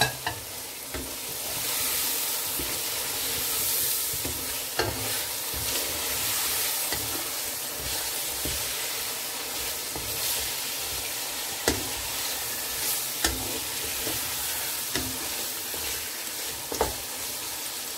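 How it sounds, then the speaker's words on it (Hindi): Fried chicken tipped into a pan of browned onions for pulao, frying with a constant loud sizzle and hiss while a utensil stirs and knocks against the pan now and then, close up, with no talking. "अब मैं इसमें डालूंगी चिकन"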